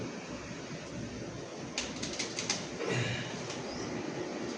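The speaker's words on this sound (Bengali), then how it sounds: "ছখানা এখন আছে, ভালো ভালো পায়রা আমি নিয়ে রেখেছি" Pet pigeons kept indoors, a short burst of wing flapping near the middle followed by soft low cooing, all under a steady room hiss with no talking.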